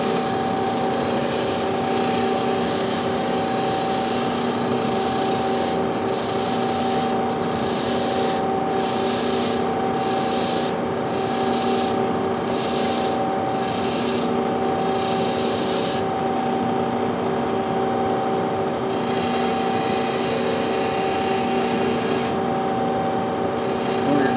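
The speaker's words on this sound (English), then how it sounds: "we'll zoom in on the grinding wheel while I do the incorrect way" A tungsten electrode is pressed perpendicular against a spinning grinding wheel, a continuous close, loud abrasive whine with a few brief dips where contact breaks.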